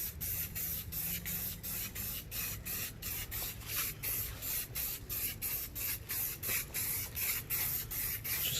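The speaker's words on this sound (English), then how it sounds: "Alright, we're going to hit it with the primer first." Spray primer coating a Honda K20 engine case outdoors, heard as a steady series of short aerosol hisses, roughly two bursts per second, close and fairly loud with no talking.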